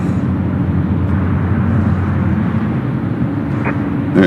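At Memphis International Airport, jet aircraft such as an Airbus A300 and an MD-11 produce a loud, steady low engine rumble from nearby, with a brief higher whine near the end and no speech.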